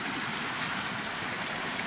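Constant close roar of fast-flowing water on the Morrabool River in Victoria, a dense, unbroken wash with no voices.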